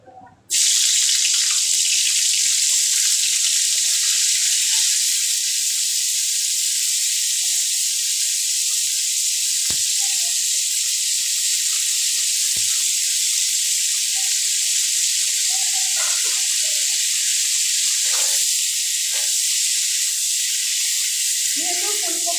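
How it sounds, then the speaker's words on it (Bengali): Boiled cauliflower florets fry in oil left from frying potatoes, giving a loud, steady hiss and sizzle that runs without pause, with a few faint clicks and light utensil taps beneath it. "ফুলকপিগুলোকেও একটু ভাজা করে নেব।"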